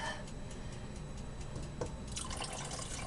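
Water is poured into a cooking pot at close range as a faint trickle and splash, with a couple of drips, swelling into a brighter, steadier fill near the end, with no talk.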